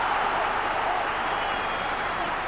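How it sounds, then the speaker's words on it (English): A football stadium crowd at a Newcastle versus Estac Intertoto Cup final roars loudly and steadily, a dense wall of massed voices swelling into a chant throughout. "The entire crowd shouted shoot then"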